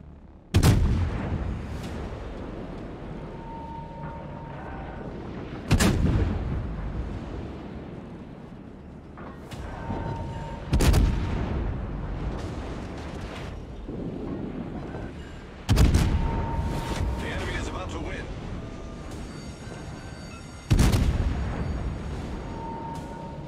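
Heavy naval gun salvos in a World of Warships battle, five booming blasts spaced roughly five seconds apart, each with a sharp crack and a long rumbling decay over steady battle noise.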